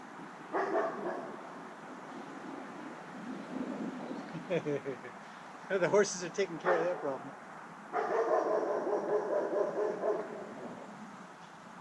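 A dog barks in short bursts at a middle distance, with a person speaking over the outdoor background.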